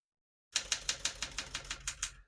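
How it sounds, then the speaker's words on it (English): A 1975 Smith-Corona Galaxie 12 portable typewriter being typed on, about a dozen crisp, evenly spaced key strikes in a steady rhythm, close and alone. "We're going to keep that on single for now and finish typing."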